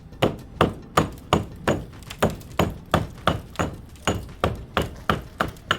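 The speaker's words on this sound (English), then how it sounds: "Let's see if we can get it out with just a hammer" Steady hammer blows strike brick about three times a second, knocking it out of a wall, sharp and close, with a slight ringing edge on each hit.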